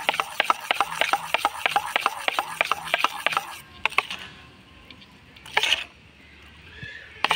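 Boondi batter is whisked briskly in a bowl, a fast, steady run of close, rhythmic scraping taps that stops partway through, followed by a few scattered knocks and rustles.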